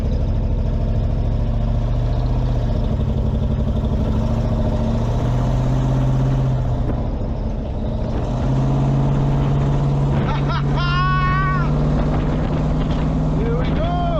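A car engine runs steadily while driving, with a low rumbling drone that feels shaky and slightly uneven, fairly loud throughout, and people talk over it.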